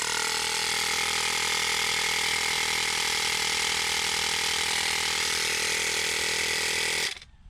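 A portable tire inflator compressor drones loud and steady at close range, its rapid mechanical chatter holding constant for about seven seconds before it cuts off abruptly.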